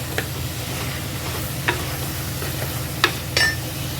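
Tomatoes, garlic and fennel fry in a pan with a steady low sizzle. A few sharp scrapes from the stirring stand out over it, close by.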